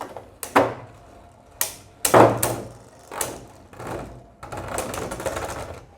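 Beyblade spinning tops clash in a stadium, sharp rattling knocks and clacks arriving in uneven bursts, followed by a brief continuous scraping whirr as the tops grind together.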